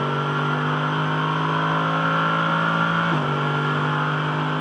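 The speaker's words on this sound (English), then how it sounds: "Great sound of the German V8." A German V8 touring car races in Australian GT competition at Townsville, its engine holding a loud, steady high-revving drone that shifts pitch as it changes gear, with no talk over it.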